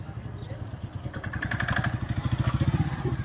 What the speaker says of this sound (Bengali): আবার অ্যাক্সেলারেটর দেন, ক্লাচ ছাড়েন